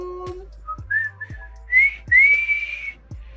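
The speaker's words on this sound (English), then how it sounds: "That whistling was crap this week." A lone person whistles a short, rising melodic phrase of several notes, close and clear against a quiet background.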